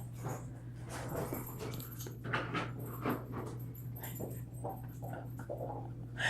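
A female dog whimpers and snuffles up close while stuck with a Diet Coke cardboard box over her head, soft whines rising and falling over a steady low indoor hum, with no one speaking.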